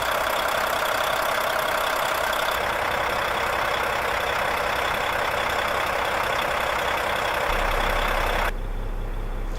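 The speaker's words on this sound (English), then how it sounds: "Volvo D13 engine" A 2008 Volvo VNM truck's D13 diesel engine idles steadily up close, a constant loud rumble and clatter that continues unchanged for several seconds.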